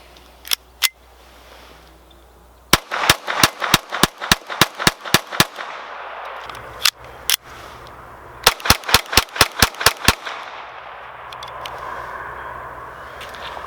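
Rapid bursts of sharp, loud shots from a GSG Firefly .22 semi-automatic pistol, two early single cracks followed by two fast strings of about ten shots each, separated by short pauses with no talk.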